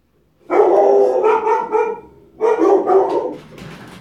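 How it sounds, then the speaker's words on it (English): Several dogs bark loudly and close by in two bursts, with overlapping yips and barks, then fade into quieter background noise. "The dogs are barking."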